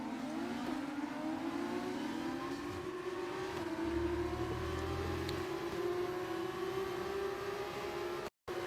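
Race car engine in an F2 career-mode racing game, a steady high whine that climbs and holds through the gears, continuous and fairly loud with a brief cut near the end.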